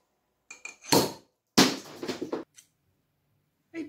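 A claw hammer strikes a sparkling wine bottle a couple of times with sharp metallic rings on glass, followed by a longer clattering, fizzing burst as it opens, then a faint knock.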